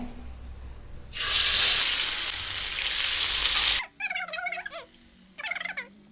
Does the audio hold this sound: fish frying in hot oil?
yes